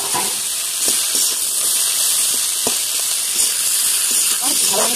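Tomatoes and spinach frying in a pan for a Bengali palong posto dish give a steady, loud sizzling hiss with occasional soft stirring clicks throughout.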